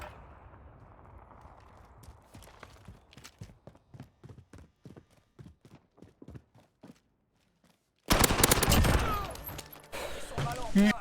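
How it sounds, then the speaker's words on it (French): Automatic gunfire from a machine gun in the first-person shooter Warzone, with a steady string of evenly spaced sharp shots followed by a pause and then a loud dense burst. "Ah, on avait une mitraillette?"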